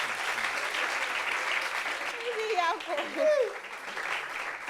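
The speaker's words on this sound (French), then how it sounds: "Applaudissements pour ce monsieur-là." An audience breaks into applause on a French talk show, a dense, steady clatter of clapping with a voice rising briefly over it partway through.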